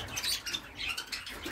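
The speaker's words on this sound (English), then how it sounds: "Over here we've got another six canaries." Six canaries in a cage chirp and tweet in short bright bursts, close and fairly soft against a faint background, with no talking.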